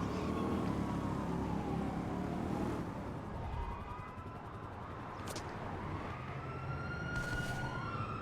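A police siren wails continuously behind a fleeing player in the video game GTA V, loud and steady, with vehicle engine noise underneath.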